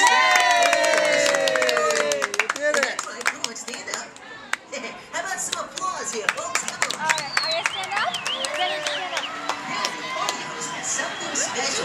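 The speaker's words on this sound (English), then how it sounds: "How about some applause here?" Crowd at a child's second birthday party at Chuck E. Cheese's cheering, whooping and clapping after the birthday song, children shouting over scattered applause, loud and lively with voices mixed in.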